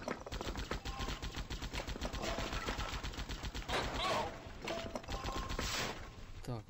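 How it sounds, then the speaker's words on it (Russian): Rapid automatic rifle fire from the flash game Mad Day, a steady stream of sharp, evenly spaced shots lasting several seconds with brief breaks, heard close and loud over game sounds. "а сможет ли он своим автоматом убить главного босса?"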